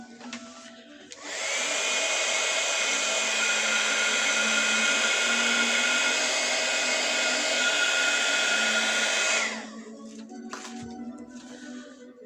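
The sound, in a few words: heat gun blowing hot air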